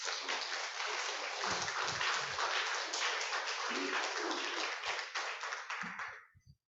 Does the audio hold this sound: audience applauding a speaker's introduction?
yes